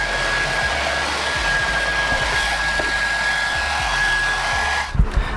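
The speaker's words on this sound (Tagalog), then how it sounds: "So, I'll just dry my hair." A hair dryer blows at close range while hair is dried, a loud, steady whooshing roar with a faint whine. It cuts off abruptly near the end and is followed by a few handling knocks.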